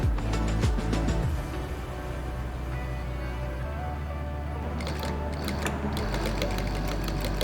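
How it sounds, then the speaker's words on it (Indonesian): A sewing machine stitches old denim jeans into a tote bag about 2 cm from the edge, a close, loud motor whir with rapid needle chatter that slows and shifts speed in bursts. "Terus kita jahit kira-kira 2 cm dari ujung."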